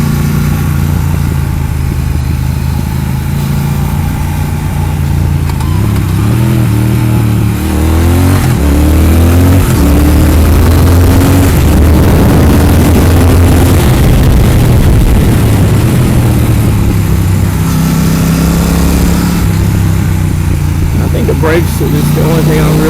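A 2018 BMW RnineT Racer or 2016 Triumph Thruxton 1200 motorcycle on a race track, its engine droning loud and close throughout, rising and falling through acceleration, with a voice talking over it part of the time.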